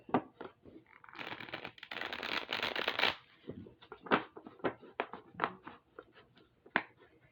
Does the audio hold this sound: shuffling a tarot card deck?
yes